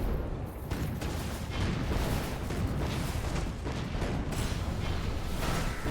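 Explosions go off in Skul: The Hero Slayer, a run of dense, rumbling bursts layered over constant loud game noise, close and heavy, with no talking.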